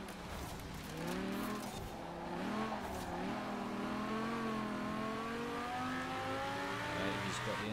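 A Porsche accelerates hard in Forza Horizon 4, its engine note climbing and shifting through gears in a steady, loud roar, with faint tire noise and a voice speaking over it.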